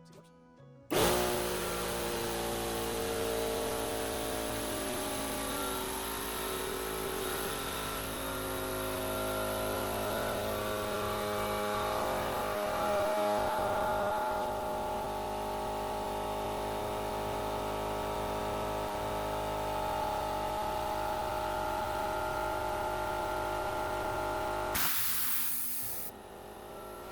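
Husky air compressor switched on: its motor starts abruptly and runs with a loud, steady droning hum and hiss for about twenty-four seconds, then cuts off.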